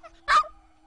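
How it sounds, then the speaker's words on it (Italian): A single short, sharp dog bark, close and clear against a quiet background. "Giustamente senti i cani di Giorgio che partono."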